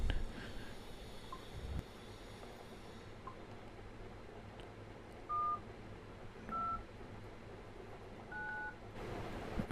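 A mobile phone keypad plays three short, evenly spaced tones as a number is dialled. They are clear but quiet over a steady low background hum.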